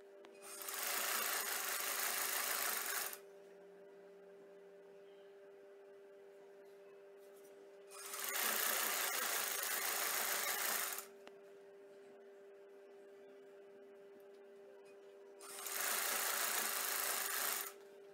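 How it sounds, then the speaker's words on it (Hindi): Sewing machine stitching a shirt or kurti lining, three separate bursts of rapid, even stitching a few seconds each, separated by quiet pauses with a faint background hum. "अब यहाँ से आधा इंच कपड़ा अंदर की तरफ मोड़ कर सी लेंगे।"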